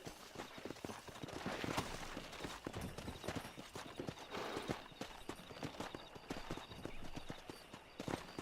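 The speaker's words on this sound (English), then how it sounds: "Let's see if we can't wrangle some horses" Horse hooves clip-clopping in the Red Dead Redemption video game, a steady rhythmic run of close hoof beats with a brief whinny, moderately quiet and without talk.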